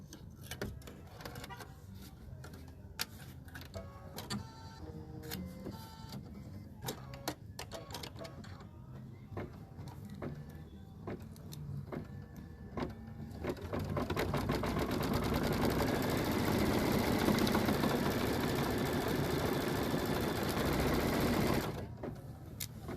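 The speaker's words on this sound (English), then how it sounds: "now we're going to change our thread to black, and we're going to stitch out the wording" Embroidery machine stitching lettering in black thread, a steady mechanical whirr with rapid ticking that starts sparse and irregular, then becomes a loud, dense continuous run in the second half before cutting off near the end.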